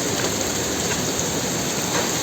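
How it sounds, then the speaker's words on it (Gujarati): Heavy rain pours down steadily and close by, a dense, unbroken roar of drops hitting surfaces with no pauses. "ફૂલ વરસાદ છે."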